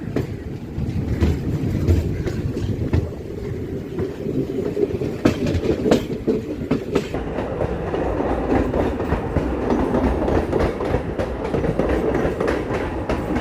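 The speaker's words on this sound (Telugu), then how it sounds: "పొద్దు పొద్దున్నే మన ట్రైన్ ఫుల్ వ్యూ అయితే ఇదండి" The Circar Express train rolls along the rails between Bhimavaram and Chennai with a loud, continuous rumble and rhythmic clickety-clack, heard close up from on board.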